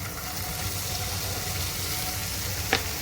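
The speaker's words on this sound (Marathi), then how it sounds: "त्यामध्ये आपण पनीर परतून घ्यायचे आहे।" Paneer pieces frying in a pan, a close, even sizzle and crackle continuing throughout with no talk, and a brief sharp tick near the end.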